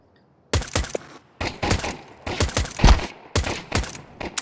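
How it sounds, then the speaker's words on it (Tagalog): Bursts of rapid gunfire in a Counter-Strike 2 match on Mirage come in several short volleys, sharp and close, with brief pauses between them. "Hayaan mo lang siya bumaril-baril."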